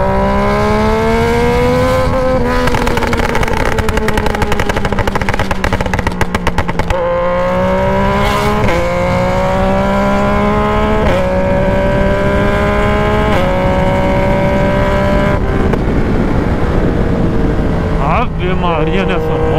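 A loud Yamaha Tracer 900 motorcycle engine with only a bare exhaust pipe revs continuously, its pitch rising and dropping through repeated throttle surges, close and dominant throughout.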